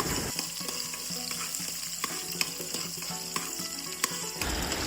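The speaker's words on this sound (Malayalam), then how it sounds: "നേരത്തെ അരിഞ്ഞു വെച്ചിരിക്കുന്ന വെളുത്തുള്ളി, പച്ചമുളക് നല്ലപോലെ ഇട്ട് വഴറ്റി എടുക്കേണ്ടതാണ്" Garlic and green chilies fry in coconut oil with a steady, close hiss, punctuated by occasional light clicks of a stirring spoon.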